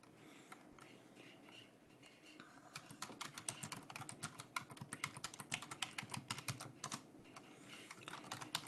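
Fingers type a Linux remount command on a computer keyboard, a rapid run of crisp, close key clicks that thickens into dense bursts over a low background hum, with no one talking.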